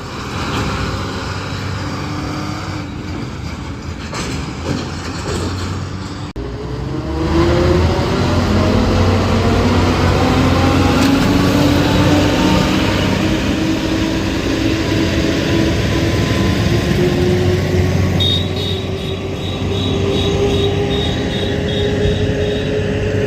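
A combine harvester drives along a road ahead of a following motorbike, a loud continuous engine drone with rising and falling pitch and steady road rumble throughout, no talking.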